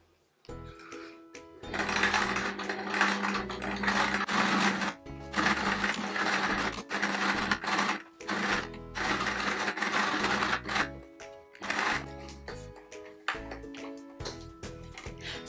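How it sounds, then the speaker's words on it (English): A sewing machine runs zigzag stitches around a quilt appliqué in several bursts of rapid mechanical stitching, whirring fast, stopping and starting again with brief pauses between runs. "which I've stitched around with the sewing machine using a zigzag"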